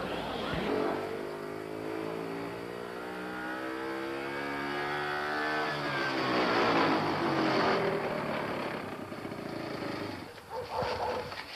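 A car engine revs and rises in pitch as the vehicle pulls away, loud and steady for several seconds before a brief rattle near the end.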